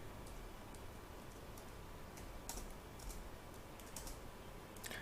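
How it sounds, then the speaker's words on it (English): A computer keyboard is used for data entry in Tally accounting software, producing faint, scattered key clicks over a soft background hiss, with no speech. "press Ctrl A to save this entry"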